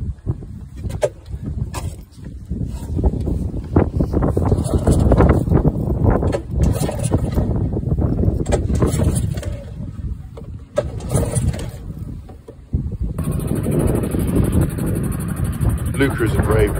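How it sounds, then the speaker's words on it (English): A Cornish Shrimper 19 sailing boat's outboard motor is pull-started and runs with a steady, loud mechanical drone. A voice talks over it in places. "I've got the outboard running"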